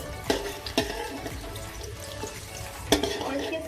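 Garlic fries in a pan for sarson saag, a continuous close sizzle broken by several sharp clacks of a utensil against the pan, with no talking.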